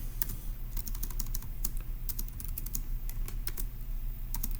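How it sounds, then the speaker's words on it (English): Steady computer keyboard typing while notes for a daily Turing Machine logic puzzle are entered, with quick irregular clicks running continuously and close by, alone without talk. "let's go ahead and type that up in our notes"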